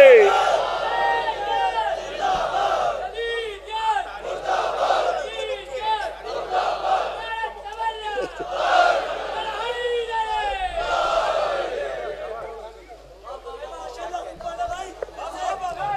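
A religious celebration crowd at a Jashn-e-Qaim gathering in Lucknow answers a Naara-e-Haidari slogan with loud, repeated shouted chanting and cries, many voices rising and falling together over a continuous hubbub for about sixteen seconds.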